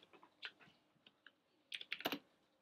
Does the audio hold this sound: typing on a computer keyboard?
yes